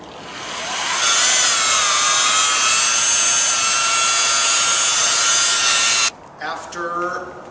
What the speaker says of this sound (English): now we're going to polish it with our special marble polishing compound